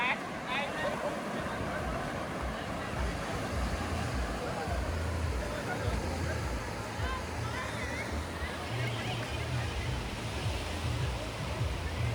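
Ocean surf rolls onto Awas beach near Alibag as a steady, broad wash of breaking waves, heard continuously under someone talking.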